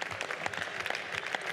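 Applause in the French National Assembly during a 2023 finance bill debate, a steady dense patter of many hands clapping at moderate distance, filling the short moment without talk.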